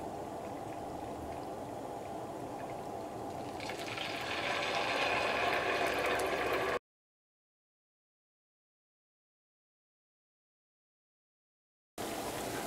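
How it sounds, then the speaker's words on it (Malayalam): A large spoonful of rice batter goes into hot oil for a spicy crunchy rice fritter, and a steady bubbling fry swells louder after a few seconds. It cuts to a long silence and returns briefly at the end. "ഓയിൽ ചൂടായിട്ടുണ്ട്. ഇനി ഇതിലേക്ക് സ്പൂണും കൊണ്ട് ഒരു സ്പൂണ് മാവ് ഒഴിക്കുക."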